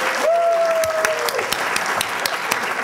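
An audience at a business conference claps steadily in a room, a dense, continuous patter of applause with a faint tone sounding briefly near the start.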